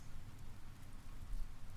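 Rain in the Persona 4 Golden video game, a quiet, steady hiss of falling drops with a soft low rumble and no voices.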